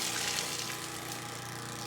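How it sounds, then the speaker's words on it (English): Water rushes steadily through a reverse osmosis filter with its flush valve open, a constant close hiss and flow with a faint pump-like hum underneath. "This is flushing out the whole reverse osmosis filter."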